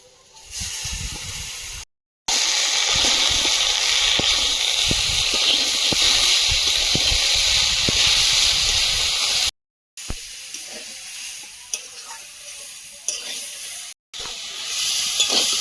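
Ivy gourd greens frying with shrimp in a pan give a loud, steady hiss and sizzle with crackling pops, broken by a few short silent gaps; no one speaks.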